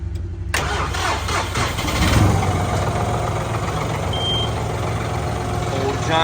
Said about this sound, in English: get the tractor fired up, let her warm up